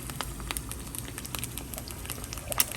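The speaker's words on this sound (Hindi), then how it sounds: "ये मेरा हाफ फ्राई एग जो है वो बन रहा है यहाँ पे" A half-fried egg sizzles in a pan, a quiet steady crackle with scattered sharp pops.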